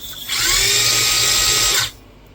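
Small electric motor of a Tamiya Top Force RC car whirring steadily at close range for about a second and a half, a loud even buzz that starts and stops abruptly.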